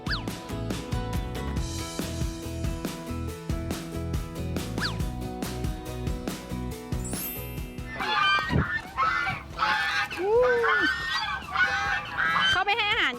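Ducks and geese at a shaded farm pond during feeding time honk loudly and repeatedly, the calls growing denser and more insistent in the second half over background music.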